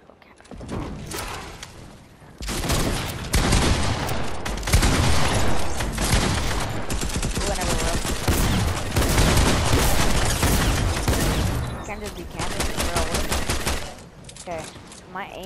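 Rapid bursts of automatic gunfire from Fortnite, loud and nearly continuous, with dense fast-repeating shots and brief pauses between strings of fire.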